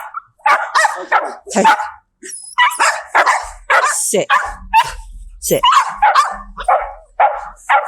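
Two dogs out on a lead walk bark and yip in quick, sharp bursts close by, mixed with a handler's short spoken commands between and over the barks.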